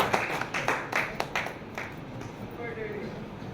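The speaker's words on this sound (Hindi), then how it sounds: "इन कलाकारों के लिए एक बार जोरदार तालियां बजा दें" Audience applause for performing artists at a film festival event in Mandsaur, a brief burst of clapping that thins out quickly, with crowd noise and talk underneath.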